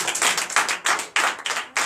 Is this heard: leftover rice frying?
no